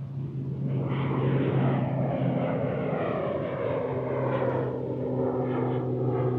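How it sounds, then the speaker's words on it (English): Fixed-wing airplane taking off near a beach at Castletown, Isle of Man, a loud steady engine roar with a low droning tone that holds throughout, no talking over it. "you see the"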